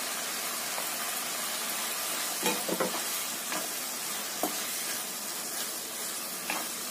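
Sliced onions, garlic and spices sizzle and fry in a hot pan, a dense steady crackle broken by a few louder spatters and scrapes as the mixture is stirred.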